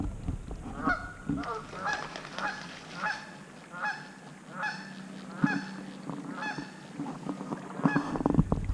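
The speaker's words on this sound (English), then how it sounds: "We found a goose." A goose honks repeatedly near the Rum River during a canoe trip, its rhythmic calls fairly close and clear over soft outdoor background noise.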